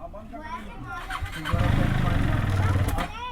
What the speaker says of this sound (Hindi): जैसे मैं सेल्फ मारता हूँ ना भाई, तो ये थोड़ी और ये इस तरह से बंद हो जा रहा है